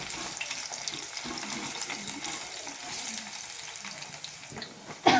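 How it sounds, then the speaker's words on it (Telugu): Tempering seeds such as mustard and cumin fry in hot oil for a tomato chutney, making a soft, continuous sizzle with faint crackles. A sharper clatter comes at the very end, and nobody speaks. "తాలింపు గింజలు వేగుతూ ఉన్నాయి."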